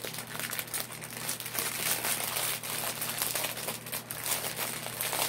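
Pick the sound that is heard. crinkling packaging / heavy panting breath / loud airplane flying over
crinkling packaging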